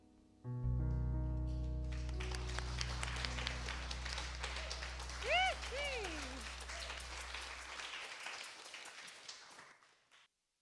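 Congregation at a Seattle Unity Sunday service applauding a performer after a song, a sustained wash of clapping that rises quickly over a fading held chord, with a few brief cheers and whoops partway through.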